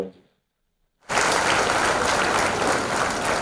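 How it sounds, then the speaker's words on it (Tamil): A crowd at a teachers' award ceremony with a minister breaks into loud, sustained applause after a brief pause, dense clapping filling the hall to the end. "Let's give a big round of applause"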